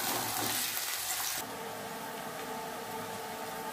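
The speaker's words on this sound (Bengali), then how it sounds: "আলুটা প্রথমে ভেজে নেব। একটু লাল লাল করে ভেজে নেব।" Potato pieces frying in a pan for a soybean and potato curry, a steady dense sizzle that drops to a quieter, even hiss partway through, close and alone with no talking.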